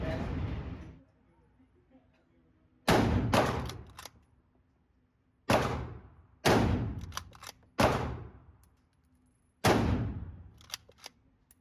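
Henry Supreme lever-action rifle in 5.56 NATO firing five sharp, loud shots spaced a second or two apart, each followed by a short decaying ring, with faint clicks of the lever action between them.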